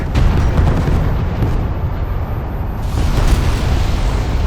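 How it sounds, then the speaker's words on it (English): Placed charges detonate in Homeworld: Deserts of Kharak, a loud sustained roaring blast that rumbles heavily and continues without letup, with no voices over it. "Pull back to a safe distance and initiate detonation"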